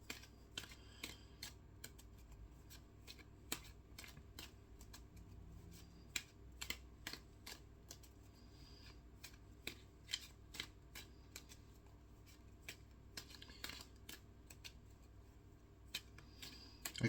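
Tarot and oracle cards being shuffled by hand, a steady run of crisp papery riffles and taps close by, continuing throughout with no talking.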